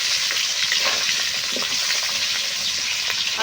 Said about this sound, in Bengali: আলুটা ভেজে নিলে ভালো হয়।